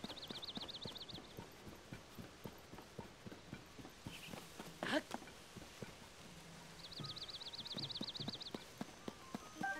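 Steady rhythmic hoof clops of a horse galloping in The Legend of Zelda: Tears of the Kingdom, fairly faint, with a warbling high tone coming and going and a brief louder whoosh midway.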